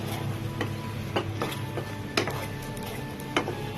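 Cauliflower and vegetables in tomato sauce being stirred as they fry, with a steady sizzle under repeated scraping clicks of a spoon against the pan, close and without talk.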